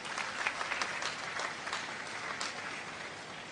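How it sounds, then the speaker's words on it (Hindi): A seated audience at a school felicitation ceremony claps steadily for managers and principals, dense continuous applause filling the hall without a break. "ये सभी मैनेजर और प्रिंसिपल्स के लिए एक बार ताली बजाकर स्वागत करते हैं।"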